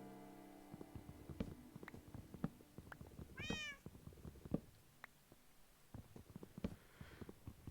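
A cat in a hardcore-mode Minecraft world meows once in a rising, wavering call amid scattered clicks and small thuds, with a fainter second meow later, fairly quiet overall.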